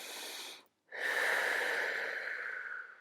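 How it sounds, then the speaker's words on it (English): Slow, deep breathing during a Pilates stretch on a reformer: a brief inhale, a short pause, then a long, airy, slightly wheezy exhale, close and soft, with no talking. "we're going to take a few deep breaths"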